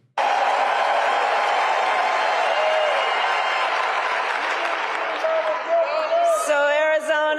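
A political rally crowd for Kamala Harris in Arizona claps and cheers in a dense, continuous roar, with whoops and a voice emerging near the end.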